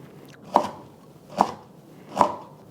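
Three evenly spaced knife chops on a cutting board through carrots, each a crisp thud, close and alone in a quiet room.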